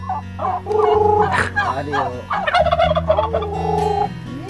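A turkey at a Filipino farmhouse lets out several loud gobbling calls close by, its rapid warbling bursts coming one after another with brief pauses between them.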